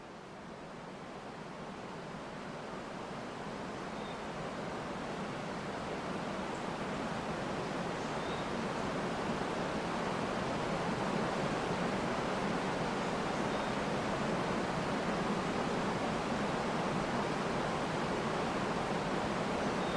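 Steady roar of a waterfall beneath a bridge, a dense, continuous rush of falling water that swells slightly in the first seconds and then holds loud and even, with no voices.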